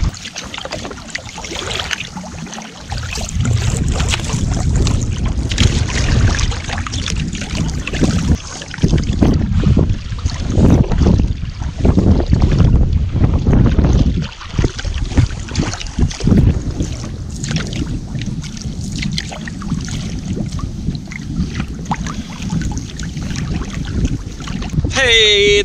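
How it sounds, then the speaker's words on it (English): Paddling a boat across a lake on a wilderness trip, with steady watery swishes and splashes from the paddle strokes under constant wind buffeting the microphone, close and continuous, with no talking. "We've got a ways to paddle. Might as well troll along the drop-offs."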